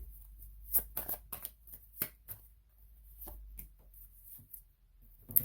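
Tarot cards are handled and laid face-down over others during a reading, giving a sparse run of soft, close slaps and shuffling flicks against a quiet background.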